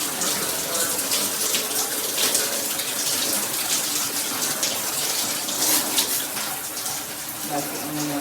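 Water from a MakeFit filtered shower head running in full-shower mode, a steady close hissing spray that keeps an even level.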